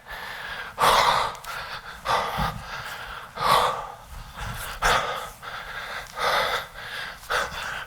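Heavy, rhythmic breathing during a kettlebell workout: loud, close gasps and exhales repeat roughly every second, each sharp and breathy, with no talking.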